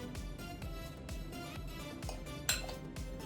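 A spoon stirs Scottish oats and apple together in a bowl, making steady, soft rhythmic clinks and scrapes against the dish with one sharper knock near the end, quiet and close.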